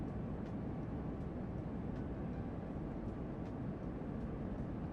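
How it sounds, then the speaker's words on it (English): A low, steady rumble of an airplane passing overhead in the train simulator game Train Sim World 5, faint and continuous under constant background noise, with no speech. "Sounds like a plane."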